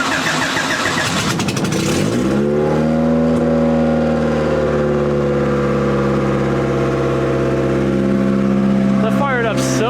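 A $200 project Honda Civic cranks briefly with a rapid starter whir, catches and settles into a steady, loud, close idle with a slight rev near the end.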